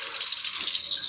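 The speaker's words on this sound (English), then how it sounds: "wash in cold water. So these are solidly frozen, but we want to rinse them off." A kitchen faucet runs cold water to rinse solidly frozen king crab legs, a steady, close hiss of flowing water with no pauses.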